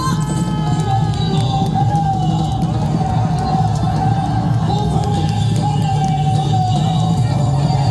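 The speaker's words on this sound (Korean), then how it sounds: "여러분 크고 뜨거운 박수 주십시오" A large crowd at an outdoor Taegukgi political rally in Dalseo, Daegu roars and applauds continuously, a dense loud wash with a wavering tone like a horn or siren running through it.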